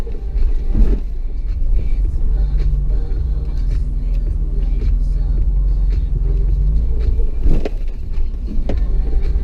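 A Toyota 4Runner with standard suspension crawling off-road on a ridge trail, its engine giving a steady loud low rumble with a couple of heavier bumps and jolts.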